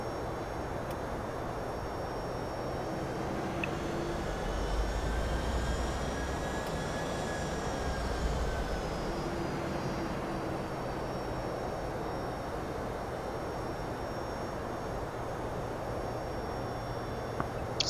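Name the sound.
Boeing 757-200 engines under manual throttle in X-Plane 11 video game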